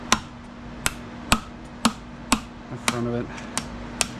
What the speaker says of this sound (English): Watch me destroy the rest of this chisel.